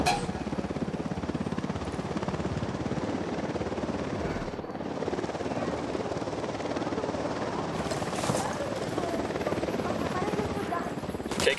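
A helicopter in the game Ghost Recon Wildlands drones steadily throughout, a loud, continuous rotor and engine roar that holds at even strength, with a slight shift in tone toward the end.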